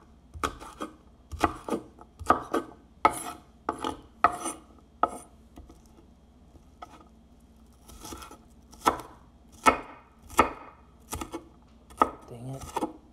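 A knife chops ingredients for a frittata on a cutting board, a series of crisp thuds in short bursts with brief pauses between, close and clear.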